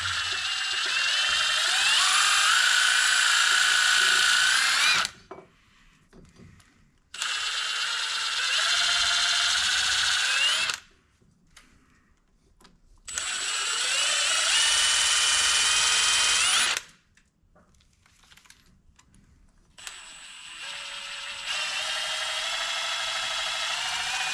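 A power drill fitted with a wire-stripping attachment whirs in several long bursts of about five seconds each, with a scraping, grinding edge and short quiet gaps between runs.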